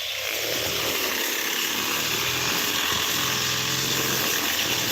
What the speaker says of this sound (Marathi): ग्रास कटिंगचं काम चालू आहे आता जोरात एकदम